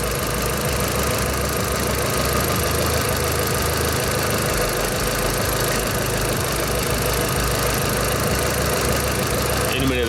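A VW Polo 9N3 GTI with the 1.8 20VT engine idles after running about twenty minutes, giving a steady, close, loud rumble with an even mechanical chatter that holds unchanged from start to finish.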